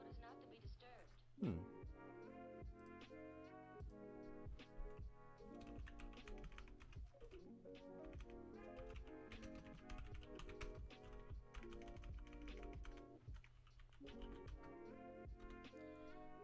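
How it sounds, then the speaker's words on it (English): Fast typing on a computer keyboard sounds as a rapid run of light clicks and taps, steady throughout, mixed with a speaking voice and background music. "I'm over here typing. And I need to not do the typing."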